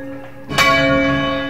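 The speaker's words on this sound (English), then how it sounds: "The bell might be much heavier than the ringer, but because it stores energy and is balanced, it takes very little effort to pull it" A heavy church bell at St. Mary's Eversley, swung full circle by a ringer, strikes once loudly and close, its bright clang ringing on in a long sustained hum with no talk.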